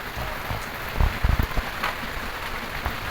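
Heavy rain pours down in a dense, steady hiss close by, with a few sharper splatters and knocks briefly rising above the constant downpour.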